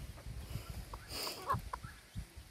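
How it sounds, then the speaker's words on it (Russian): A mother hen with her chicks at feeding time, heard as soft, low clucks in a steady irregular rhythm with a few thin higher calls, quiet and close. "Мама курочка их кормит."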